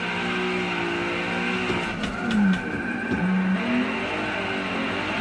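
A car engine in a sim drifting video game, revving and bouncing off the limiter as the clutch is kicked, with pitch rising and dipping in short surges over a steady drone, moderately loud and without speech.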